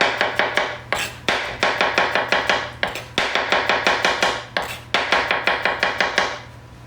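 A knife chops mushrooms on a cutting board in a cooking class, a steady run of about thirty close, crisp taps in quick rhythm with brief pauses, over a low constant hum.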